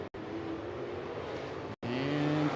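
Race cars running door to door down the back stretch of an oval at Kennedale Raceway Park during an All Star Shootout night, a steady loud engine roar broken by two brief dropouts, with rising engine tones near the end.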